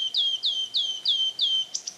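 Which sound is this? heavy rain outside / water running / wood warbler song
wood warbler song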